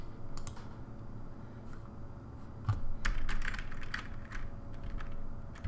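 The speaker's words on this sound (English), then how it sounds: "I'm just using my arrow keys on my keyboard" Computer keyboard arrow keys tapped at an irregular pace, a few isolated clicks and then a quicker cluster of presses, fairly close over low room hum.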